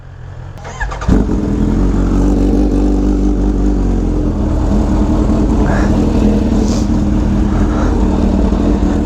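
A Kawasaki Ninja H2 motorcycle engine roars loud and sustained inside a tunnel, rumbling and echoing after a sharp start, with no clear pass-by.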